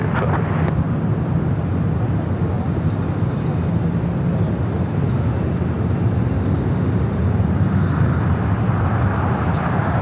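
Airliner on the ground at LAX arriving from Mexico City as flight 810, a steady broadband engine rumble that holds loud and constant throughout, with no distinct peaks.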